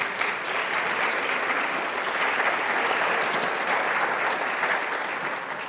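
A church congregation claps steadily, a full, loud and continuous wash of applause that holds evenly throughout.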